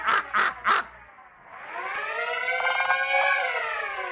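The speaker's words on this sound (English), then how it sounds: "Hey, alarm went off." An alarm siren in the video game Dialtown rises into a loud, sustained electronic wail after three short, bright beeps.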